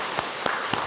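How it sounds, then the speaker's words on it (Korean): A church congregation at a Sunday worship service applauds, a dense, steady wash of many hands clapping with a few sharper peaks, filling the whole brief moment. "하나님께 영광의 박수 올려드립니다."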